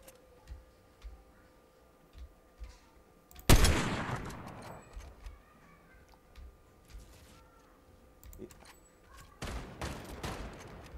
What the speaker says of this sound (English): someone's shooting in that direction